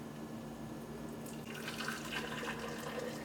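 Freshly boiled water poured into a glass jar holding tea bags for brewing kombucha, a soft steady trickle that grows brighter midway as the jar fills, close and fairly quiet with no talk.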